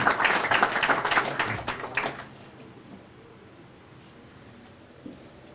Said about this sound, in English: Let's give him a nice round of applause for all that he did for Moorhead baseball.